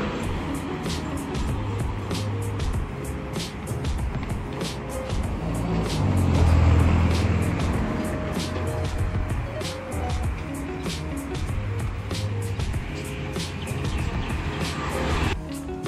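Street traffic in the Wat Ket area of Chiang Mai, Thailand, with cars passing along both sides of the road, a steady roadside rumble that swells around the middle as a vehicle goes by close, with a faint voice in the background.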